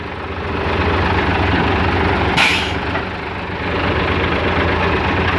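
A 2012 FAW truck with a 24-valve engine idles loudly and steadily with a deep, rumbling drone, broken midway by a short sharp burst of air-brake hiss; no talking.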